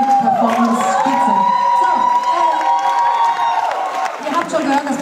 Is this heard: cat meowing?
no